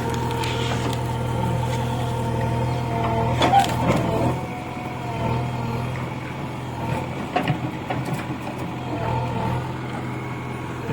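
A JCB excavator digging out tree roots idles nearby with a steady low diesel hum, punctuated by clanks and scraping knocks of the machine at work, with no talk.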